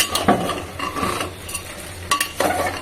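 Dried and green chilies fry in oil with a steady sizzle while a spatula scrapes and stirs the pan in uneven strokes, close and fairly loud.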